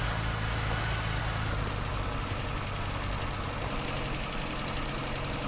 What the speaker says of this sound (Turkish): Motor sesini dinliyorum. Rölantideki ses çok iyi.